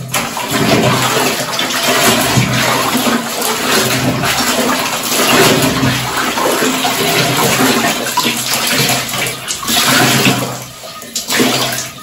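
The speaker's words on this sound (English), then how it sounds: "the water is slowly going" Water rushes and gurgles continuously as a washing tub drains after hand-washing clothes, a loud, steady churning that swells and dips without pause.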